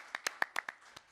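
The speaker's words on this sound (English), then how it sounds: "Let's give her a round of applause." A handful of sharp, separate hand claps ring out in a quick, uneven burst of about six, fairly faint, as an audience applauds for the Metro North president.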